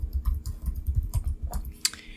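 Quick bursts of keystrokes on a computer keyboard, close and fairly loud, irregular clicks and taps over a low hum with no talking.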